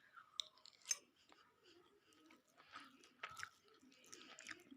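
Close, quiet chewing and soft wet bites of khichdi eaten with ghee at home, with small crunchy clicks and squishy mouth sounds at an irregular pace and no talking.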